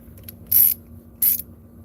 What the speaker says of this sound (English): It's not the best ratcheting screwdriver I have, but it works. It's smooth enough.